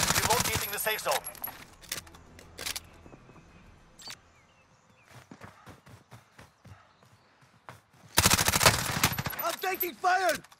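Gunfire in Call of Duty: Modern Warfare, loud rapid bursts of automatic shots at the start and again near the end, with quieter scattered shots and game noise in between.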